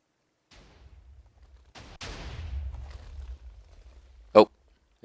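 A TNT cannon fires in Minecraft: a rumbling blast swells and fades, followed by a sharp, loud explosive crack shortly after, with no talking.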